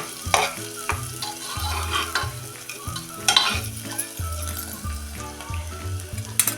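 Sliced bitter gourd is sautéed in a pan with onion-garlic chutney and salt, a soft sizzle under repeated scraping stirs of a spoon against the pan, close and steady, with no talking.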